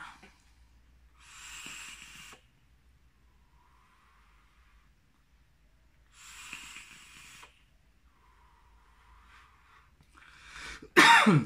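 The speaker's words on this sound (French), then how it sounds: "c'est le PG qui me fait tousser" A few dry, hoarse coughs from vaping a propylene glycol e-liquid, spaced several seconds apart, with a louder harsh cough at the very end; close and otherwise quiet.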